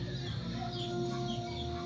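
Chickens cluck steadily in a poor rural backyard home, with a low, continuous murmur of calls running throughout at moderate volume and no talking.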